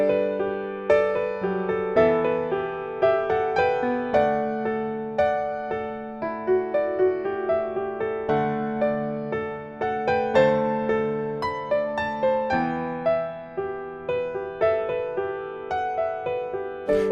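Solo piano plays the right-hand intro melody of a song: clear, evenly paced notes and chords ring out, each one decaying before the next, with no talking.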